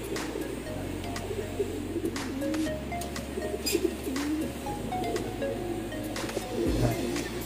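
Imported pureline racing pigeons coo in a showroom, soft repeated low coos spread across the stretch with faint chirps and room murmur beneath.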